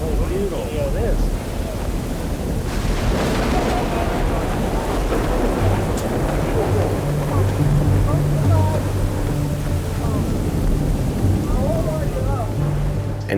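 A strong wind storm roars in like a freight train during an outdoor disc golf round, a loud continuous howling rush of wind and blowing noise filling the whole clip with low rumble throughout.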